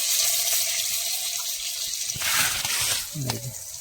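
Tap water runs into a kitchen sink while thankuni greens and small fish are being cooked in a home curry, a steady gushing stream with a brief splash of filling near the end.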